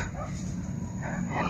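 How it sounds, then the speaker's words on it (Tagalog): Dogs bark and whimper close by in a short, noisy outdoor moment, with small yips over a steady background rumble and a voice speaking alongside. "May mga aso na mga tol."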